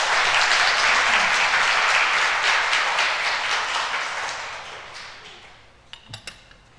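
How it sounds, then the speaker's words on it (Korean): A church congregation applauds to welcome a visitor, full close clapping that swells and then gradually tapers off, ending in a few scattered claps and small clinks. "박수로 환영해 주십시오."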